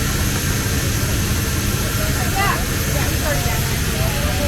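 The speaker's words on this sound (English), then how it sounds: "You're in a C17 plane" Engines of a C-17 military transport plane in flight, a loud, steady broadband roar filling the cabin throughout, with faint voices underneath.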